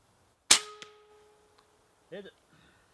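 A .25 air rifle pellet from an AEA Challenger Bullpup strikes a steel gong at 50 yards: one sharp metallic clang rings out and decays, followed moments later by a brief voice.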